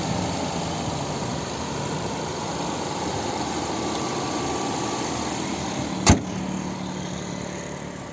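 A 2018 Audi Q5 S Line with a 2.0 TFSI petrol engine and 7-speed S tronic idles steadily close by, a low continuous rumble with exhaust hum, broken once by a brief sharp click.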